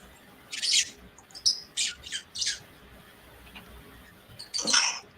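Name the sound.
angry bird squawking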